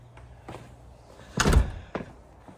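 A garage door on a DIY truck camper build opening and closing, with a couple of light knocks then a heavy thudding slam and a final click, close by and quiet between the hits.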